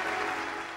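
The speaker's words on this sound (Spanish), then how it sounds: "arrecian los aplausos para Adolfo Suárez" A crowd applauds Adolfo Suárez in a steady, sustained wash of clapping that fades slightly toward the end.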